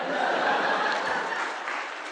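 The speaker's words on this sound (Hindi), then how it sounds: "ये तुमने क्या बात बोला है जो ये ताली बजाए?" Studio audience clapping in a dense, even burst of applause mixed with some chuckling, sustained and fairly loud for a couple of seconds.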